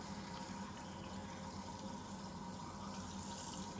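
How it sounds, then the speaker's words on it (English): Water running steadily into a glass canning jar packed with beans for Appalachian-style pickling: a continuous, even rushing and gurgling flow, quiet and close, with no talking. "right easy, fill this up with water"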